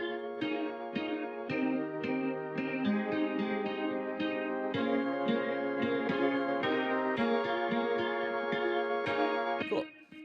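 A jazzy synth pad holds extended chords beneath a bright top-end lead line, steady and clear without any voices, in a breakdown of a song.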